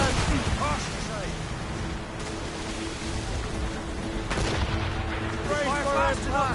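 Warship cannons fire during a naval battle in Assassin's Creed Rogue, with booming broadside shots at intervals over rushing sea and battle noise while crew voices shout throughout.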